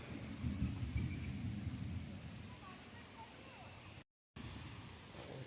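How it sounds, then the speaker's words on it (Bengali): Strong wind gusts roaring through a garden during a Kalbaishakhi storm, a broad, steady rushing noise that is loudest at the start and eases slightly, with a brief dropout near the end. "হাওয়া দিচ্ছে ভালো, প্রচণ্ড ঝড় উঠেছে"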